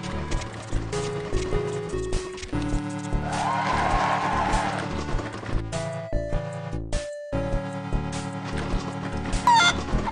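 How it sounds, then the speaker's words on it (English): Chickens cluck in the Operation Ouch hospital video game, with game music and effects playing along throughout at moderate loudness. "There are chickens loose all over this hospital."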